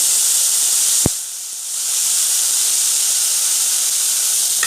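Tomatoes drop into a pan of frying onions with a sharp sudden hit, and the sizzle briefly dips before a loud, steady hiss of frying fills the rest.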